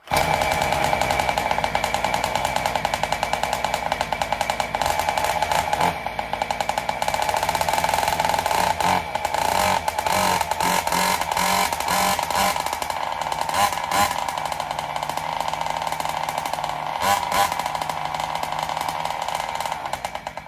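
A Joncutter 5800 chainsaw running on methanol warms up with a loud, steady two-stroke engine drone that holds for the whole stretch, its pitch wavering slightly, close by with no talking.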